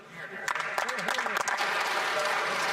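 Parliamentary members in Canada's House of Commons clap together in a dense, sustained burst of applause that swells quickly and holds steady, with scattered louder claps standing out near the start.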